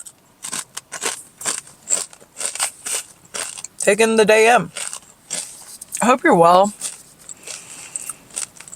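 Crunching bites of Tim's jalapeno chips come as sharp, close clicks and crackles in a parked car, repeated irregularly between and under a woman's spoken words.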